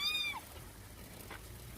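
A kitten gives a single short, high meow near the start, followed by faint background noise.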